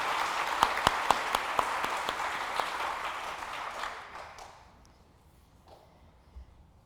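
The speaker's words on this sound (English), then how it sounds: "some applause to thank her for her wisdom and leadership" An audience at a book awards celebration applauds for several seconds, dense clapping with a few sharp nearby claps, then fading out to near silence.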